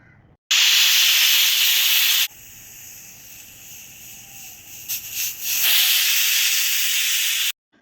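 A pressure cooker of chicken curry vents steam in a loud, close hiss lasting about two seconds, then drops to a softer rushing sound and returns to a second strong burst before cutting off.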